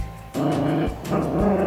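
A dog growls close by in a low, rumbling burst that pauses briefly and then resumes, loud and alone, with no one talking over it.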